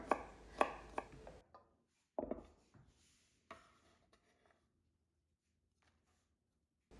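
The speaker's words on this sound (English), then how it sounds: "Rough chop 10 cloves of garlic." A knife rough-chops garlic cloves on a board at a camp kitchen: a quick run of sharp, close chops, then a few scattered softer cuts fading to near silence.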